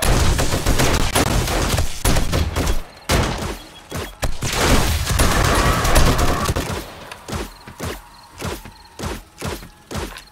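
Gunfire in 7 Days to Die rings out while zombies are shot, with rapid loud bursts and single cracks packed into the first half, then spaced-out thuds and shots toward the end.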